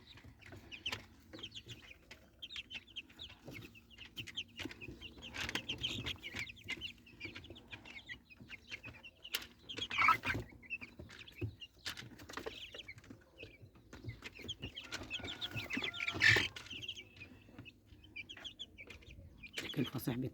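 Native Egyptian baladi chickens cluck and chatter in a sunny yard, with scattered clucks rising and falling nearby over a low background.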